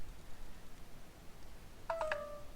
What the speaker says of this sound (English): That's my phone saying it's dying.